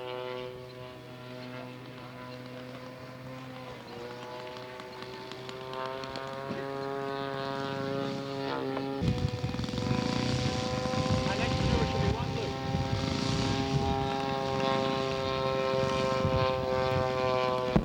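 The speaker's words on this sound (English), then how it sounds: "And I think Mike's coming in for his landing." A radio-controlled scale model propeller airplane comes in to land at a scale aircraft contest in California, its engine drone holding steady and then shifting pitch and swelling louder as it approaches, with a public-address voice talking over it.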